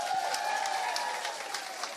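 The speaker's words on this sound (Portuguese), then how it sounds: "que é da doutora Elaine, que eu queria uma salva de palmas" Steady applause from an audience at a public hearing of a parliamentary special committee, a continuous wash of clapping hands heard fairly distantly, with no speech over it.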